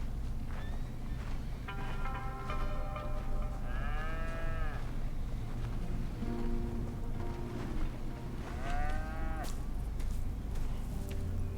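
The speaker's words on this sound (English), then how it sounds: "Here's the cows." Several cattle moo in a video game farm scene, the drawn-out calls rising and falling one after another over a steady low rumble of ambience.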